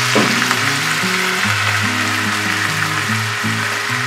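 Chopped onions with a splash of Worcestershire sauce cook slowly over low heat in a pan for burger topping, giving a steady loud sizzle with broadband crackle throughout and a low tonal hum underneath, no voices.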